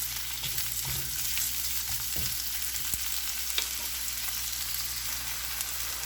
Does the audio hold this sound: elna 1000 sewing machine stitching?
no